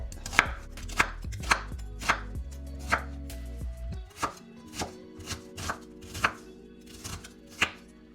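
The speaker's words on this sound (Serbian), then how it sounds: "Sada ćemo jednu glavicu crnog luka da iseckamo na kockice." A knife chops an onion into cubes on a board in crisp, evenly spaced strikes, heard up close with no talking, over a faint low hum in the first half.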